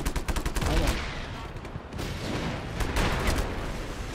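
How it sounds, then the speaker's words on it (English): Gunfire and a large explosion from a cannon in the action video game Just Cause 3, loud, dense crackling shots and booms filling the whole stretch with a few sharper bursts, with faint talk underneath. "Oh my gosh, that was a bigger explosion than I thought."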